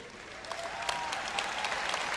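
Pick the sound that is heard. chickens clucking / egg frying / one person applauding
one person applauding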